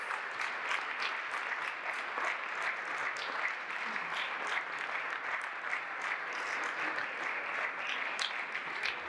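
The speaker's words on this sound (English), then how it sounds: "I'd like you all to stand up and give them a big round of applause." A standing crowd applauds honored elders at a homecoming gathering, a steady, even roar of many hands clapping that continues without a break for about nine seconds, heard at moderate distance.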